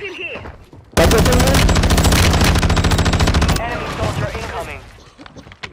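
Automatic gunfire in Call of Duty Warzone: a loud, steady machine-gun burst of rapid evenly spaced shots for a few seconds, then quieter scattered shots and clatter, with voices talking around it.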